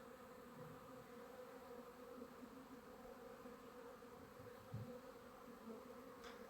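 Steady, dense insect buzzing fills the scene, many Carniolan honeybees at a water trough droning together continuously at close range with no voices.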